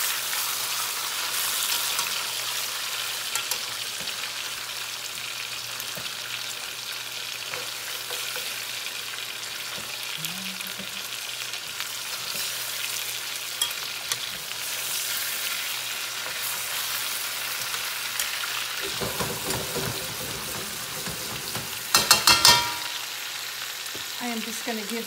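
Chicken for arroz con pollo fries in a pan with a steady, broadband sizzle for a long stretch, joined near the end by handling clatter and a few sharp knocks.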